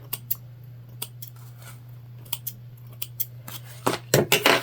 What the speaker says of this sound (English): Trimming threads here